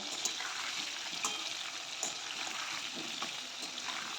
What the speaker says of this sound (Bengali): আলুগুলো বেশ লাল করে ভেজে নেব